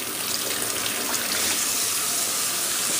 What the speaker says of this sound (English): let's say almost 2 cups of water in there.